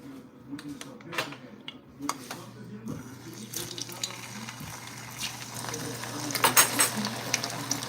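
Egg rolls fry in hot oil in a home kitchen, a steady crackling sizzle with scattered sharp pops, joined by clinks and bumps of handling that grow busier near the end.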